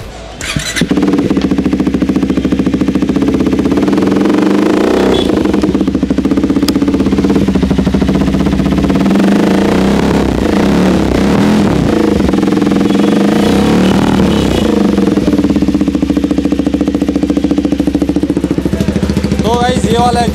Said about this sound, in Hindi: ये है एससी प्रोजेक्ट का शॉर्ट कैन।